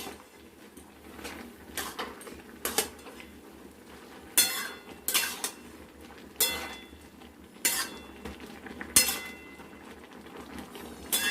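A lid is lifted and a curry of taro leaves with hilsa fish head is stirred in a pot. A spoon gives repeated sharp metallic clanks and scrapes at irregular intervals over quiet background.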